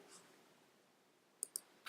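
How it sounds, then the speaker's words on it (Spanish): Mouse clicks on the Increase Indent button in Microsoft Word, a few sharp, faint clicks near the end: a pair close together followed by a third, over a quiet room hum. "Y ahora hacemos clic en el botón Aumentar sangría."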